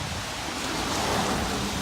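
Heavy rain pours during a New York City nor'easter, a dense, steady hiss of falling water close by with no breaks or voices.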